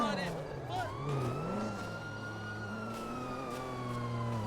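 Police sirens wail in the GTA video game, a steady, gliding electronic tone mixed with engine noise under faint voices.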